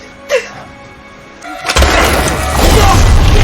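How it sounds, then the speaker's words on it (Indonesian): A boat explodes in a disaster survival film: after a quiet, tense stretch, a sudden deep boom erupts into a loud, sustained roar of blast and debris lasting to the end. "kapal tersebut meledak dan tidak dapat digunakan lagi"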